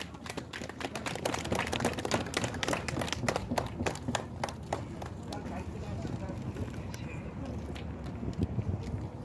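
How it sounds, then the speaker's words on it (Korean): A seated audience at an indoor rally bursts into sustained clapping to welcome the next speaker, dense overlapping hand claps at full strength that thin slightly toward the end. "우리 큰 박수로 모시겠습니다."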